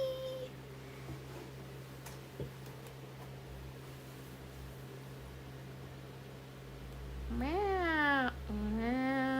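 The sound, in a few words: cat meowing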